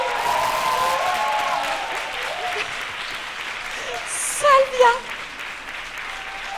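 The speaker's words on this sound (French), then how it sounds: "Je vous demande d'applaudir" An audience applauds steadily through an afternoon show, a dense, fairly loud patter of clapping with a brief burst of cheering or whistles near the end, while a voice speaks over it.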